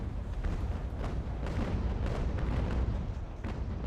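Ship cannons fire in the naval battle game Ultimate Admiral Age of Sail, a dense continuous rumble of booming broadside shots, loud and sustained with repeated heavier blasts.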